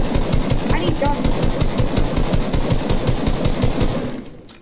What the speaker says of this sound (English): Oh no, it's a minigun.